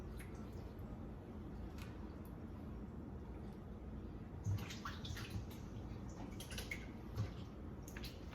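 Water runs and drips steadily as it drains off pieces of stewed chicken, a soft continuous trickle with a few louder splashes and drips near the end.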